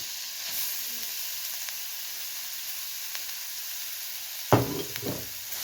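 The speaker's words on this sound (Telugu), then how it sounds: "అందులో కొంచెం నెయ్యి వేసుకొని ఇప్పుడు ఈ తురిమిన క్యారెట్ వేసేయాలి" Grated carrot frying in ghee for carrot halwa makes a continuous bright sizzle with scattered crackles. Near the end, a louder clatter of utensil against pan comes through, with no one talking.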